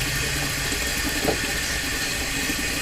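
Steady broadband rush of water running from an outdoor tap, continuous and fairly loud throughout with no voices.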